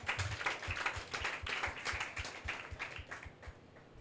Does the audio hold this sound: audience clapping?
yes